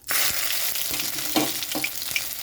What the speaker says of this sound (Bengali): কড়াইতে সর্ষের তেল দিয়েছি সর্ষের তেলটা গরম হয়ে গেছে তো এখানে আমি দিয়ে দিচ্ছি আদা